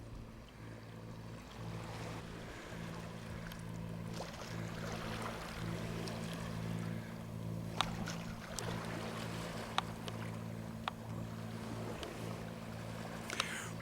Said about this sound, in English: We've just got a couple in a little boat passing in front of us.